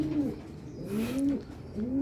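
Racing pigeon cooing close by, a series of low, rolling coos repeated in three bursts with brief pauses, no talk over it.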